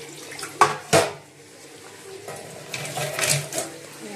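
Dishes, pots and pans clatter in a home kitchen as they are washed, two sharp clanks early followed by softer clinks and running water.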